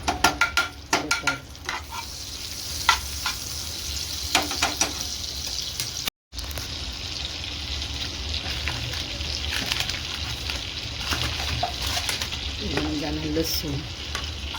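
Amul butter sizzles and fries steadily in a hot pan, with stirring clatter early on and a brief dropout midway; close and continuous, no talk.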